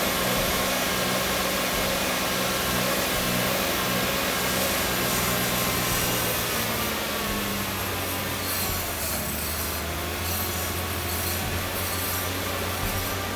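A Nissan GT-R, previously crashed and with a rough idle caused by turbo air venting, now running steadily, its engine producing a loud, continuous drone with a broad hiss and no talking.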